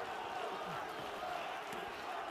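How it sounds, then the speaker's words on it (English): Broad, steady crowd roar from spectators at a boxing match in Oberhausen, a dense wash of cheering with faint voices under it. "The crowd standing, cheering home Manny Charr."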